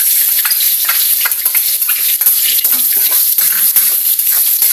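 Garlic and onion sauté in the pot used to boil chicken stock, giving a loud, busy sizzle with repeated scraping and stirring strokes and some watery bubbling.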